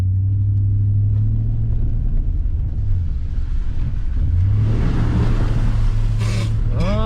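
An off-road vehicle on a camping trip drives into puddles, its engine a loud low droning rumble with a pitch shift midway, then a surge of splashing water and wind buffeting near the end.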